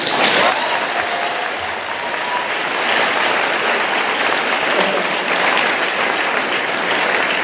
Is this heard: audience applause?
yes